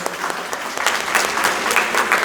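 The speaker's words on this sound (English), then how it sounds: "very big round of applause" Audience at a kindergarten graduation ceremony claps in a brief, moderately loud burst of applause that swells slightly toward the end.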